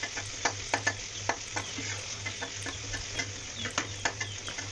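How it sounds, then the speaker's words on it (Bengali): Onions sizzle in hot oil in a pan for an egg, papaya and potato curry, with a steady fry under repeated sharp clicks and scrapes of a spatula stirring close by. "এখন এটা আমি লাল লাল করে ভেজে নেব।"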